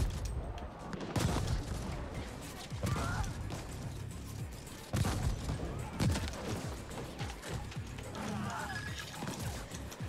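Gunfire aimed at the player in the game The Ascent, repeated loud shots and bursts over busy game noise for about ten seconds, with thuds and effects mixed in.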